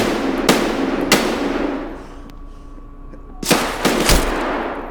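Gunfire in the shooter game Escape From Tarkov, with loud, sharp reports in separate bursts, two shots early on, a pause, then a tight cluster of shots near the end, close and punchy with no talking.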